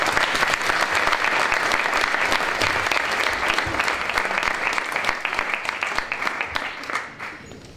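A crowd at a German boxing world-title event bursts into sustained, dense applause that holds steady and loud, then tapers off near the end.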